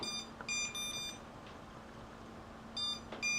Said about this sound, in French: ce bip est un buzzer intégré